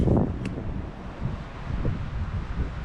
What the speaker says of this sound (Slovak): Troška sa nám aj vietor troška fúka, ale to není nejak veľa.